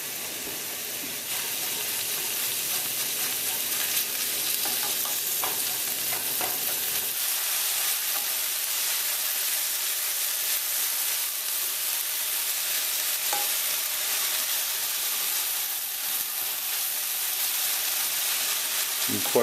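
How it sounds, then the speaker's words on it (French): Onions soften in hot oil in a pot: a loud, steady, close sizzle and hiss runs unbroken for the whole stretch, with occasional faint stirring, and no voices. "Quand l'huile commence à être chaude, on commence à laisser ramollir les oignons."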